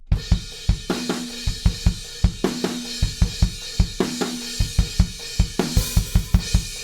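A drum fill from a song repeats in short phrases, quick kick and snare hits landing in a steady rhythm with crisp cymbal accents, played alone.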